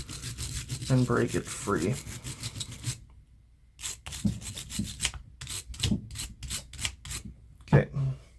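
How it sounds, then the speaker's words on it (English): Brushing scrub on a Ruger Wrangler revolver cylinder with solvent, a series of short rasping strokes close by, broken by a pause, with someone talking over the first part. "Get a little bit of a scrub, try and get anything loose on top of that cylinder"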